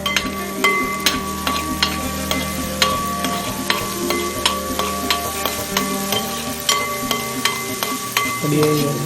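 Onions, green chillies and curry leaves frying in a pan for a Kerala duck curry, a close, steady sizzle broken by regular sharp clinks of a spoon stirring against the pan.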